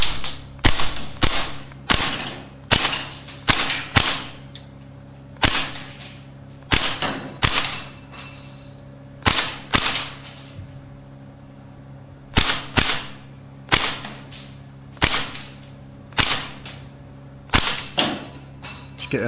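Maruyama ISO556 gas blowback airsoft rifle running on propane fires a string of sharp, close cracks, some in quick doubles and short bursts, with brief pauses between groups and a faint mechanical ring behind them.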